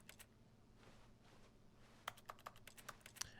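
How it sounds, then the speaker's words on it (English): Keyboard-style typing clicks from clicking on objects in the video game The Stanley Parable: Ultra Deluxe, a short scattered burst of crisp taps over a faint room hum, no voices. "I love how when you click on stuff, it's just like the keyboard effect"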